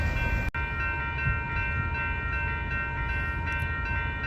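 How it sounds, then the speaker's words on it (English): Freight stack train rolling past on the Kansas subdivision, a loud continuous rumble of rail cars with steady high-pitched wheel squeal throughout, heard alone. "stack train."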